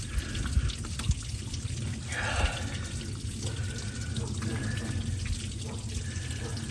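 Coolant pours and trickles steadily from the thermostat housing of a Ford 7.3 Powerstroke diesel farm truck, a continuous low watery splash with faint drips, fairly quiet and close.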